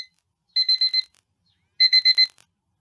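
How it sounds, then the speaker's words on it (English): An electronic alarm clock beeps in two separate bursts of four quick, bright beeps, with a second of silence between them and no voices. "My alarm."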